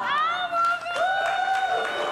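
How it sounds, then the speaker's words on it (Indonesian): Audience applause and light cheering at an evening stage event make a steady, moderately loud wash beneath a prominent voice speaking throughout. "Tambah kenceng lagi tepuk tangannya"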